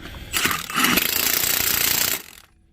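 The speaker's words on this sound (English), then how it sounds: "we'll turn our Milwaukee from setting 3 to setting 2, which has the proper torque to not over torque and not under torque these lug nuts" Milwaukee impact wrench on setting 2 tightening car lug nuts, one loud continuous burst of rapid hammering lasting about two seconds, close up, then cutting off into quiet.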